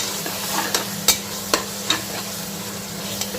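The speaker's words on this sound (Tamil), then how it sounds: "அதையும் சேர்த்து நல்லா வதக்கிக்கலாம்." Tomatoes being sautéed in a pan for beef biryani, a soft continuous sizzle broken by several sharp scrapes and knocks of a spoon stirring, close by with no talking.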